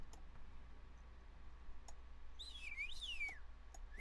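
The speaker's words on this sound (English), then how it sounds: "every time the bird whistles, the big loud metal sound happens" Bird in the video game The Grey Maze giving faint warbling whistles that slide down and up in pitch, over low background hum with a few soft ticks.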